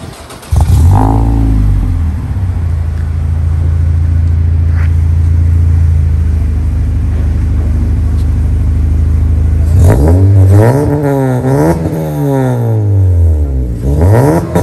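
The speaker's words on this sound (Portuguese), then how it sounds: "Vamos ouvir o ronquinho dele?" A naturally aspirated Honda Civic fitted with a Mugen cap starts and idles with a deep steady rumble, then revs repeatedly, the engine climbing quickly and falling back in several sharp bursts, loud and close.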